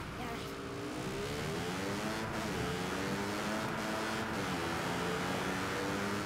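Car engine droning and revving continuously in Far Cry 5, rising and falling in pitch as the vehicle cruises through countryside, loud and steady throughout, with faint talk mixed underneath.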